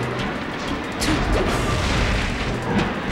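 Samus fires missiles in a Super Smash Bros. tournament match, heavy booming blasts and crashes over a dense, loud game mix, with a stronger burst of impacts after the first second.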